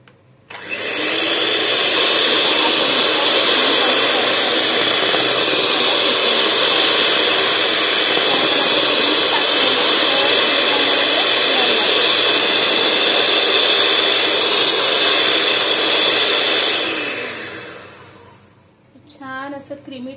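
An electric beater whips a milk powder ice cream mixture with a loud, steady whirring drone that runs for about sixteen seconds, then winds down and stops.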